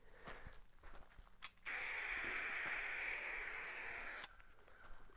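An aerosol spray-paint can hisses out a single steady burst of about two and a half seconds while marking the layout of a stone stepping-stone walkway outdoors, close and clear after some quiet shuffling.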